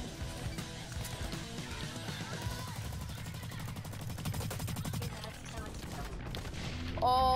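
Dense, sustained automatic gunfire from the first-person shooter video game Blacklight: Retribution, with rapid overlapping bursts running almost continuously and loud throughout, ending in a brief sharp electronic tone.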